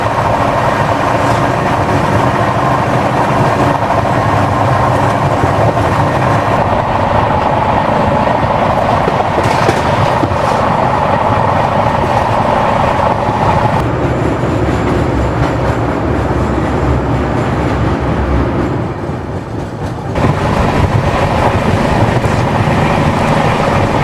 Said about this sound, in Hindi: अब आप एंजॉय करिए इस डबल डेकर एक्सप्रेस के साथ बिल्कुल 130 का एक्शन।